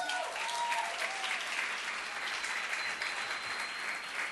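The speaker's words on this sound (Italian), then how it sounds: "Io farei un altro grosso applauso a Matteo." An evening concert audience applauds in a steady, sustained wash of clapping that runs the whole time at moderate distance without pause.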